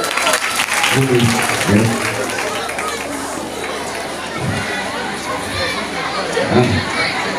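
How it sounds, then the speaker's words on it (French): Applause from an audience at a school event in Kinshasa, loud and continuous for the whole stretch, with crowd chatter and voices mixed in. "Applaudissez!"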